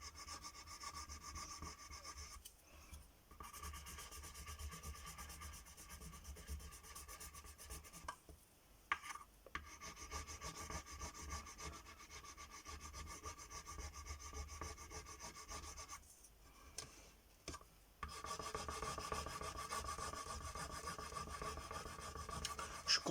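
Steady rasping scrape of a tool over a wooden bird house decoration with a Home Sweet Home piece, continuous and close, broken by a few brief pauses.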